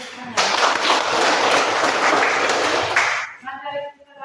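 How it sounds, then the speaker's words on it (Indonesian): A classroom of students breaks into a burst of clapping that lasts about two and a half seconds and then stops abruptly, followed by a few spoken words. "Oke, beri tepuk tangan."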